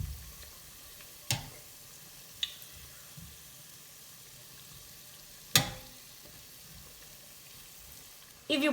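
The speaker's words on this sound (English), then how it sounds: "One by one, I will start dropping my mandazis in the hot oil, and I'll cook them until they are golden brown" Kenyan mandazi dough frying in hot oil, a soft continuous sizzle with a few sharp clinks and taps of utensils scattered throughout, fairly quiet and close.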